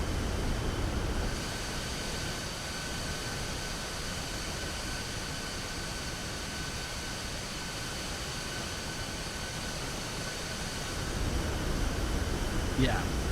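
The interior of a C-17 Globemaster III in MSFS 2024 fills with a steady broadband engine roar and cabin hum, smooth and constant, rising slightly at the start and end.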